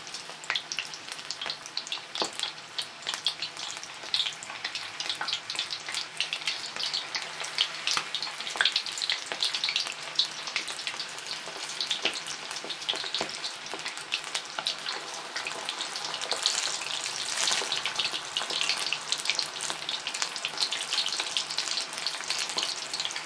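Battered prawn tempura fries steadily in hot oil in a pan, a dense continuous crackling sizzle that holds at even loudness throughout with no talking.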